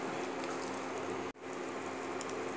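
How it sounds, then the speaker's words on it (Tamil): Sambar boils steadily with a bubbling sound in a pot, continuous and close, with a brief break in the middle. "நல்லா கொதிச்சுன்னு இருக்கு"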